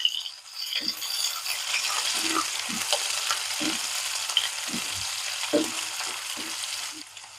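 Onions frying gently in a pan on a low flame for a plantain and moong dal curry, a steady close sizzle broken by intermittent knocks and rattles of stirring.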